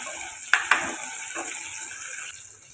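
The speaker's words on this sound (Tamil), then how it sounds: "இது கூட வெங்காயம், பச்சை மிளகாய் சேர்த்துக்கோங்க. சேர்த்துட்டு 2 நிமிஷம் வதக்கி எடுத்துக்கோங்க" Onions and green chillies sauté in hot oil for a village-style goat trotter curry, giving a soft, steady sizzle with two sharp utensil knocks against the pan early on and a light scrape.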